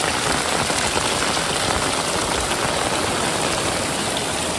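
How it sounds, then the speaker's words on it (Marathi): Dense, continuous heavy monsoon rain pouring down in Kankavli, a loud steady hiss with no gaps. "पाऊस पण खूप पडतो"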